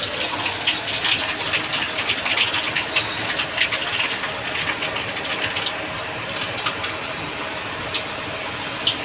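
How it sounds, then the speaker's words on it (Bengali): Tomato chutney for fried rui fish with hen's eggs being poured into a hot pan, giving a steady sizzling, gushing wash of sound with crackly bursts throughout, close and moderately loud with no talking. "আমি এবার টমাটারটা ঢেলে দেবো।"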